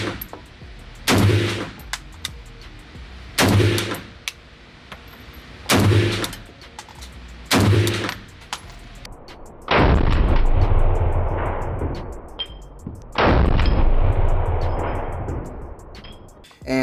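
PSA GF3 AKP AK-47 rifle fired at a range, with about half a dozen loud, sharp blasts spaced a few seconds apart, each with a booming decay and echo and no talking between shots.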